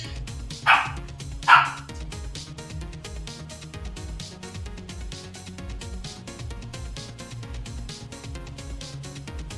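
A dog gives two sharp, loud barks close by early on, then falls silent while steady background music continues underneath.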